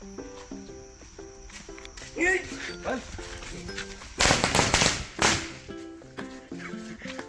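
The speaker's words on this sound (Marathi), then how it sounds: "1000 फटाक्यांचा पाला आणलाय" Music plays throughout, broken by a short, dense burst of loud crackling pops from a 1,000-cracker firecracker string lasting about a second, then the music continues.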